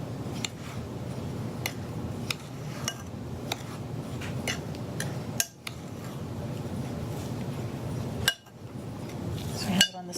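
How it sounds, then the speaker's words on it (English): Utensil scraping and clinking against a bowl while a shower steamer mixture is stirred, with scattered sharp taps at an even pace, fairly quiet and close, with no talking. "Okay, so we have that, and just going to stir it up."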